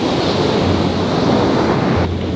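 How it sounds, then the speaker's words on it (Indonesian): Large ocean waves break on a beach in a constant loud roar of surf with wind buffeting the microphone, no voices over it. "Ombaknya terlalu besar ini."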